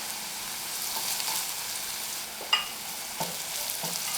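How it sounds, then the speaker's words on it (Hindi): Chopped garlic sizzles steadily in hot oil in a pan, with a few stirring clinks and scrapes breaking through the close, continuous frying hiss. "अब इसमें जाएगी हमारी चॉप गार्लिक, थोड़ा सा सॉटे करेंगे।"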